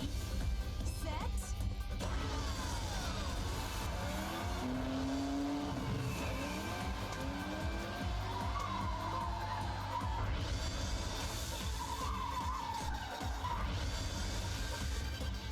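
Arcade racing in Cruis'n Blast, with engines roaring steadily throughout, repeated tire screeches and skids as cars slide through turns, all under a dense layer of game music and effects.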